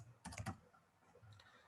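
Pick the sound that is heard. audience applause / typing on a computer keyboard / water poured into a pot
typing on a computer keyboard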